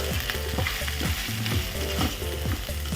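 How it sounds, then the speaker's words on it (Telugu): Boiled prawns sizzling loudly in hot oil with ginger and garlic, a constant dense crackle broken by repeated scraping stirs of a spoon through the pan, close and continuous with no talk. "ఇప్పుడు ఇందులో ముందుగా ఉడకబెట్టుకున్న పచ్చిరొయ్యలు వేసేద్దాం. సరే, బాగా కలుపుకుందాము."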